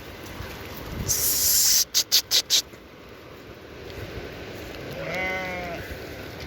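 A sheep on a green pasture gives a single short bleat late on, moderately close, following a brief burst of noise and several sharp rhythmic clicks.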